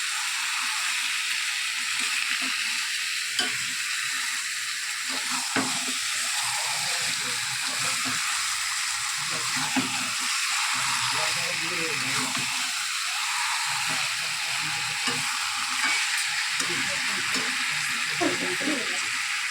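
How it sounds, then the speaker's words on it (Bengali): Chicken meat stir-fried (kosha) in a pan: a continuous soft sizzle and hiss runs throughout, with occasional stirring clinks, fairly close and moderately quiet, with speech heard faintly in the background. "এখন কষা হচ্ছে মাংসটা।"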